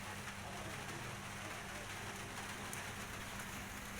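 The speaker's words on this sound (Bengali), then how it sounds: "টিপ টিপ বৃষ্টিতে কি যে ভালো লাগছে" Light drizzle falling steadily outdoors, a soft even patter of raindrops on surfaces with no pauses, faint and continuous with no voices.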